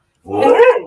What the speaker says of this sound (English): Sorry, that's my dog. I do apologise.